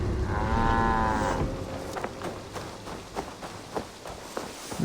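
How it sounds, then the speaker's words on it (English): Cattle in Assassin's Creed Valhalla give one long, clear moo near the start, followed by soft, irregular hoof thuds and footsteps over a low outdoor ambience. "Look at those moo cows."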